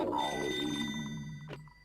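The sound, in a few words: telephone ringing during a phone call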